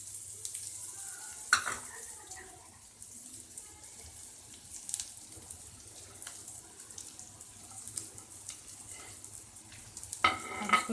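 Egg with coriander and green chillies fries in a pan, a faint, steady sizzle with a few soft scrapes and clinks of a utensil, close and low in level, with no talk.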